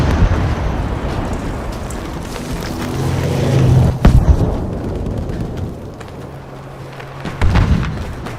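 Gunfire and blasts in a video game running at 1080p on a PC: a dense, rumbling mix of shots and booms, with sharper bursts standing out near the middle and toward the end.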